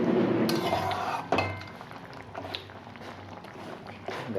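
A spoon clinks and scrapes around a pan of red tomato chutney made with sugar and chilli powder, steady stirring with a few sharper knocks, fairly close and moderately loud.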